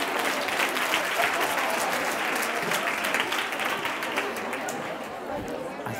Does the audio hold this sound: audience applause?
yes